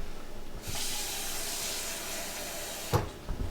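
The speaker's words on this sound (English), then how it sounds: "We'll just throw a little water in the bottom of the pan." Water splashes in a steady hissing stream into the bottom of a pan of sausages, starting abruptly after a moment of quiet and ending with a few clinks of the pan.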